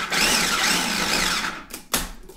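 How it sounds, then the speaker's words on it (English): Blender whizzing almonds with egg yolk, a loud steady grinding whir with a wavering pitch that cuts off, followed by a brief clunk, heard close without speech. "I'm going to put the little cover on it and just whiz it up."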